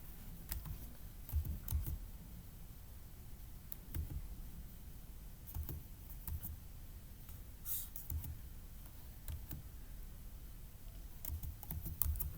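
Computer keyboard typing while entering a formula in an Excel spreadsheet: quiet, close clusters of light key clicks in short bursts separated by pauses, no talk.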